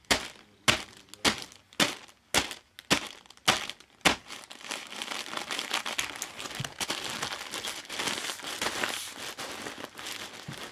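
Falling cans crash onto a loaf of bread in several sharp, close crinkling hits, then give way to a dense, continuous crushing and rustling as the bread is flattened.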